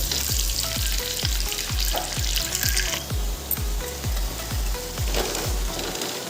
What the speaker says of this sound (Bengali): এই কটা ডিম ওই ভাগে ডিমটাকে আমার ভাজতে হলো